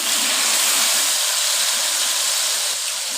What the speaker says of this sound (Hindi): अब इसमें थोड़ा सा मैं पानी डाल दूँगी।